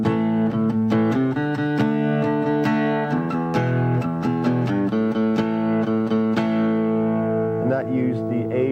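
Electric guitar plays a faster A5, D5 and E5 power-chord progression in a blues-rock style, brisk strummed chords in a driving rhythm, loud and unaccompanied.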